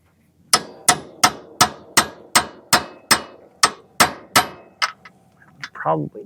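A dozen loud, evenly spaced hammer blows ring on metal in a steady rhythm while working on New Holland 1412 intermediate shafts, then a brief voice speaks at the end.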